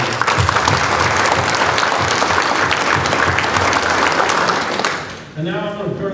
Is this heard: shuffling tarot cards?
no